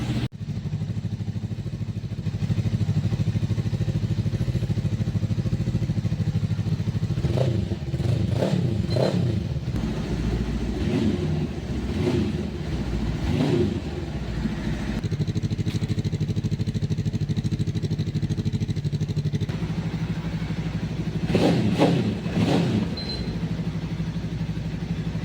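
Falcon X 400 motorcycle with a 400cc twin-cylinder engine idling steadily and close, broken by a few sharp throttle revs in two clusters, with no talk.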